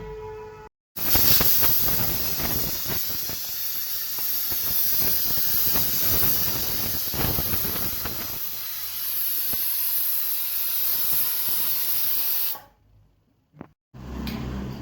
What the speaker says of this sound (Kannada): ಲೈಟ್ ಆಗಿ ಕುಕ್ಕರ್ನ ಮುಚ್ಚಿಬಿಟ್ಟು ಕೂಗಿಸೋಣ